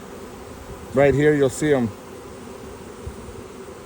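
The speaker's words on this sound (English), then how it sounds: "If you look up here, you'll see them fanning their wings." A honey bee swarm fanning their wings makes a steady, low droning buzz close by, briefly overlaid by someone speaking.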